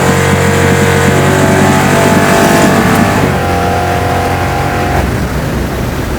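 An 850HP garage-built big block Chevy El Camino rumbles loudly from inside the cabin while driven at light quarter throttle, a deep, steady roar with slight rises, heard close and alone.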